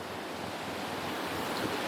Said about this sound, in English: The water is loud enough here to drown out